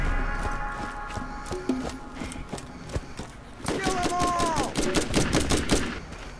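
Gunfire in the video game Borderlands GOTY Enhanced, a run of sharp repeated shots over a steady game background, growing denser and louder in the second half with other in-game sounds mixed in.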